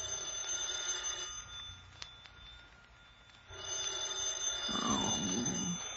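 Telephone ringing in an old-time detective radio drama, a short bell-like ring standing out over a quiet, hissy background before a louder passage of sound swells in near the end.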